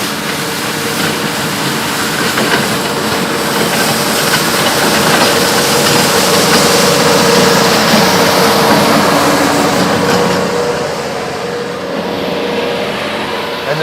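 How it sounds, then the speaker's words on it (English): A heavy tractor engine rumbles and hisses steadily near Amsterdam Schiphol Airport, swelling slightly as it passes nearby, then fading a little toward the end. "And the tractor just passed me by, as you can hear."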